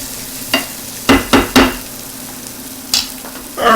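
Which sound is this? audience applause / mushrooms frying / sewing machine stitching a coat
mushrooms frying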